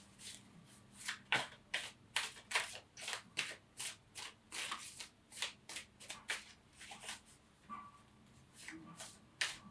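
Tarot cards being shuffled by hand, a steady run of quick, crisp riffling bursts repeating for several seconds, close but quiet, with no talking.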